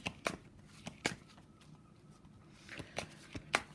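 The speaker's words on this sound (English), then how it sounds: "I'm still shuffling some cards for you" Soft papery tarot card shuffling, with several sharp riffling bursts spaced unevenly through the quiet stretch, close and moderately faint.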